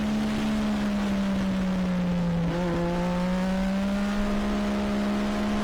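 A racing motorcycle accelerates on the Nogaro circuit, its engine holding a loud, steady high-pitched drone with a brief dip and recovery midway, close and continuous without pause.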